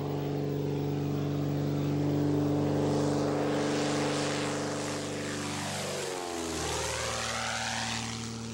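Propeller airplane droning overhead, a loud, close engine hum with steady harmonic tones that sweep downward as it passes and then recedes, with no voices.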